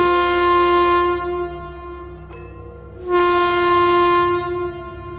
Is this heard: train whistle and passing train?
yes